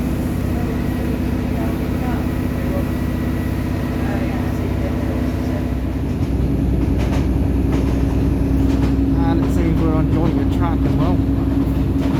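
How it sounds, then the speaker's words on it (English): Steady rumble of a train riding jointed track on a rural line near Buxton and Bakewell, with rhythmic clickety-clack wheel clatter over the rail joints and a voice talking over the noise. "The clickety-clack sound, that's jointed track."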